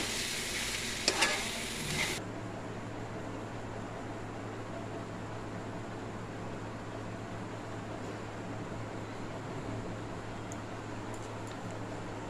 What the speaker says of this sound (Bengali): এবারে একটুক্ষণ নাড়িয়ে চাড়িয়ে নামিয়ে নেব।